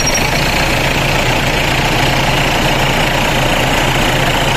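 A Mitsubishi Pajero second-generation 4M40 diesel engine idles steadily while its air conditioning is being recharged, a loud, close, continuous rumble with a faint knocking rhythm and no speech.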